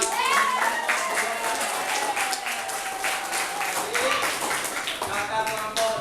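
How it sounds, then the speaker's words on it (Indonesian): A classroom group applauds group 1 with steady, continuous clapping that stays fairly loud for several seconds, joined by a few voices in the background. "Oke, tepuk tangan buat kelompok 1."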